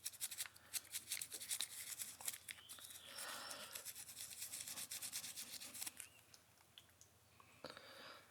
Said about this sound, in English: I'm just going to get some of this the brush and scrub it a little bit more.